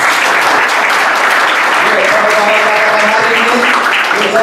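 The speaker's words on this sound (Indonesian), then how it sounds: "Tepuk tangan untuk Tuhan Yesus. Tepuk tangan yang keras." A church congregation at a Sunday service claps loudly and continuously in a full, dense burst of applause, with voices calling out and a faint tone rising within the clapping.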